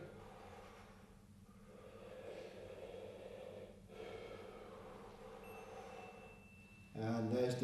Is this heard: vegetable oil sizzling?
no